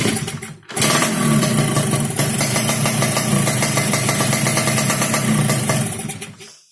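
A two-stroke Yamaha RX King 2003 motorcycle engine kicks in after a short pause and runs loud and steady, its buzzing drone holding close for several seconds before cutting off.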